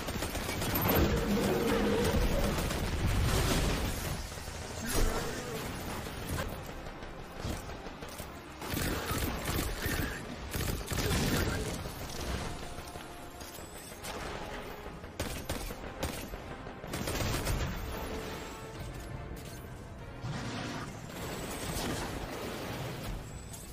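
Rapid bursts of gunfire from the Destiny 2 video game, dense automatic fire with mechanical clatter and reloads, loud and continuous throughout.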